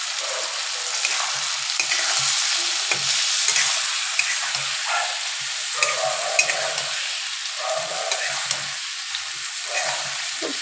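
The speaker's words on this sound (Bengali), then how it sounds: "খুব সুন্দরভাবে কষিয়ে নিতে হবে।" Chapila fish masala being stir-fried in a pan, a steady close sizzle broken by frequent scraping strokes of a spatula, with no voices.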